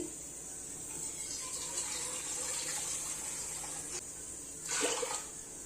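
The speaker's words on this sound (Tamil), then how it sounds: "அதே அளவுக்கு ஒரு 4 வாட்டி ஊத்திக்கலாம் தண்ணி" Water pours from a cup onto rice and moong dal in a cooking pot, a steady splashing trickle with a brief louder gush near the end.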